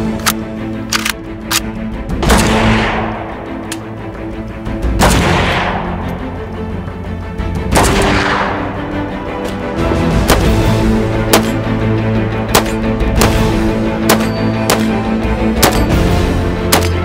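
A Krebs Custom AK103K-S AK-47-pattern rifle fired outdoors, loud sharp shots ringing out with long decaying echoes, several spaced single shots followed by a fast string of rapid fire, no talking.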